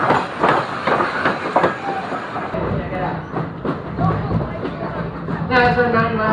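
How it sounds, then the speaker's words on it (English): A steam locomotive on the Strasburg railroad rumbles and clatters along the rails nearby while switching ends, with hissing and a brief tonal squeal near the end, voices mixed in. "Now we are switching the engine to the other end for the return trip back to the station"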